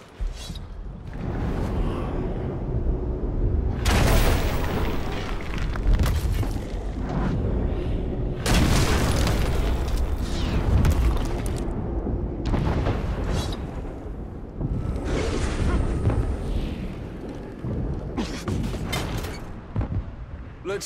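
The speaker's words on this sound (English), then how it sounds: "Shooting those explosives should subdue the beast." In Shadow of War, explosives are shot and detonate in a siege battle against a beast, with repeated loud, booming blasts and rumbling crashes separated by short lulls over about twenty seconds.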